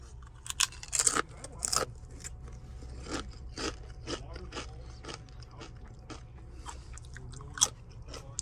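Crunchy sweet potato fries bitten and chewed close to the mouth, sharp crisp crunches at first followed by a run of quieter rhythmic chewing clicks, with some talk in between.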